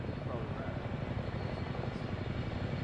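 A Chinook helicopter flies low overhead in a military video game, its heavy rotor throb rumbling steadily and close throughout.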